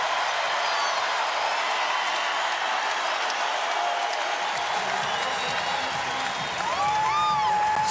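A sold-out basketball arena crowd at a Gonzaga versus Utah game roars and applauds during a timeout. The loud, continuous cheering and clapping fills the space, with whistle-like shouts rising near the end.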